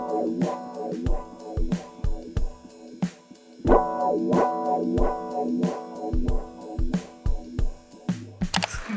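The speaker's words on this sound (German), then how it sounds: "Naja, das ist ein Hall- und Wah-Pedal." Electric guitar run through reverb and wah pedals, plucked notes and chords with sweeping, watery tone and long decays, played alone at moderate volume.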